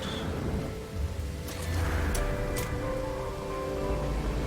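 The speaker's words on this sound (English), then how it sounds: "Need to get out of this storm soon, too." Rain and thunder from a storm in No Man's Sky, a low continuous rumble under a soft hiss of rainfall, fairly quiet and steady, with a few faint sharp ticks partway through.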